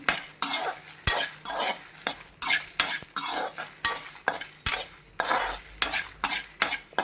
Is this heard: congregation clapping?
no